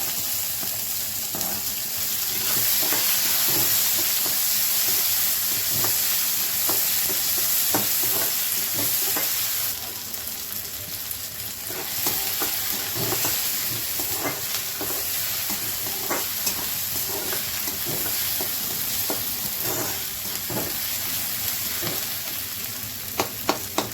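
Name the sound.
onion frying for vangyache bharit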